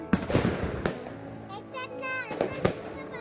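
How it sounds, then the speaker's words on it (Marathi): Firecrackers are set off during Diwali celebrations, giving several sharp, loud bangs scattered a little apart, some near and some farther off, while people talk between the cracks. "सगळीकडे फटाके फोडणं चालू आहे."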